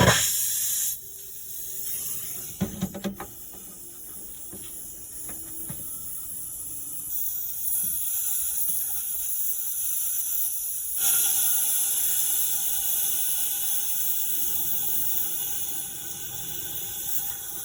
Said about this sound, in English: we're going to use the thermal persuader to just cut the head right off the bolt